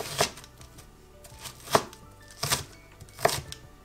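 A knife chops through an onion on a cutting board during preparation of a Mauritian chicken curry, giving four or five sharp, separate cuts spaced about a beat apart, close and clear with no talking.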